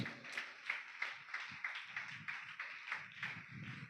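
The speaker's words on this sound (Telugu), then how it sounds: "కొట్టు గట్టిగా చప్పట్లు." A congregation claps hands together at a Hosanna Ministries church gathering, a steady rhythmic patter of sharp claps repeating about three times a second, moderately distant with a faint low murmur beneath.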